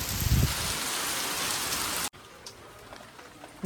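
Heavy rain pours down steadily as a dense, loud hiss, then abruptly drops to a softer patter with scattered drops after about two seconds.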